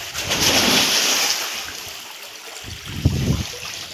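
Water streams in through a pipe in a steady, close rush that fades slightly partway through, with a few thumps and splashes near the end.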